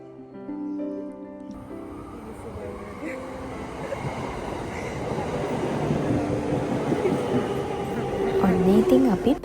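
A train ride in Japan: after a brief tonal chime-like opening, a broad rumble of the moving carriage builds steadily louder, with voices partly heard beneath the noise.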